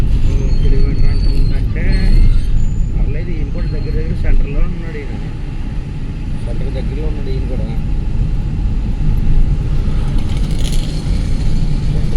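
A Rajahmundry bus passes on a road near Kadiyam, its engine roar and tire rumble loud and close under steady traffic noise, with a person talking over it.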